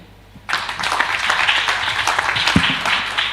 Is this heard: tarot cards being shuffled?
no